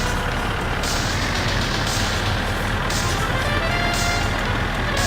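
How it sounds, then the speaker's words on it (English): A train in the video game My Summer Car rumbles loudly and steadily, with broadband noise and a faint high tone, like a large machine rolling past close by. "I hear the train."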